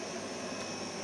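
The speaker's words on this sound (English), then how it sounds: "145 cubic meters air blower that supplies our air all the way to the fish tanks" A 145 cubic meter air blower feeding air to backyard aquaponics trout tanks, a steady, loud, broadband whooshing roar with no variation.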